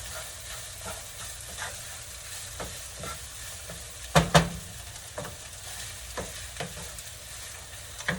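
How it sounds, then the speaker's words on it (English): Ginger powder frying in oil in a pan while being stirred, a soft steady sizzle with scraping stir strokes and a couple of sharper clatters near the middle, close up with no talking. "I'm going to fry that off. Mix it well."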